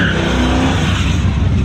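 A loud Dodge Charger engine roars steadily during a burnout with a harsh, gritty rasp of spinning tires, close and continuous throughout.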